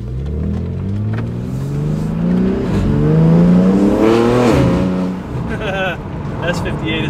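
BMW G80 M3 with S58 engine and front-mount intakes accelerating from inside the car, rising engine tones climbing through several gears with shift breaks, loud and close, with voices speaking over it.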